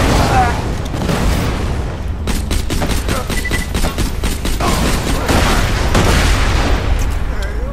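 Grenade blasts and heavy gunfire in Borderlands 2 rumble continuously and loudly, with a dense burst of rapid shots in the middle and booming explosions around it.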